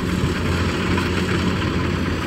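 A Kubota DC-105X combine harvester's engine runs steadily in a rice field, a continuous low rumbling drone with even vibration throughout, close and fairly loud, no talking.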